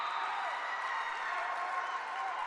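A volleyball championship crowd of fans, Chemeketa vs. Bellevue, cheers and claps in a steady, distant wash of applause.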